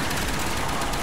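Rapid machine gun fire in Black Ops zombies on the Der Riese map, a dense, steady burst of shots packed close together and loud throughout, with no talking.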